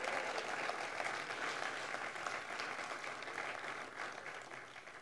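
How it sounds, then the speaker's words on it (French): Sustained audience applause fills a Jeune Chambre de commerce annual gala hall, a dense, steady clapping from a large crowd that carries on for several seconds and eases slightly toward the end. "Un applaudissement encore une fois."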